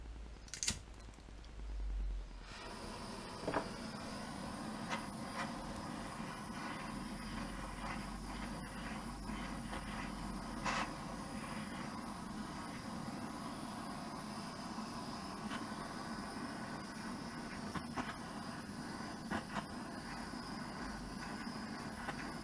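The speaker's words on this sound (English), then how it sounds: "provided you play the blow lamp around sufficiently and don't just hold it in one spot" Blow lamp flame playing over a wheel bearing housing: a steady, close roaring hiss that runs continuously after a brief start, with a few faint metallic ticks beneath it.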